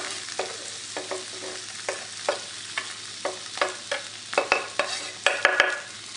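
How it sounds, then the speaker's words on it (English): Chopped small yellow onion sizzles in olive oil in a skillet, a steady fry punctuated by rhythmic scraping strokes of a utensil that grow busier toward the end. "Add some olive oil. And I'm going to add a small yellow onion chopped."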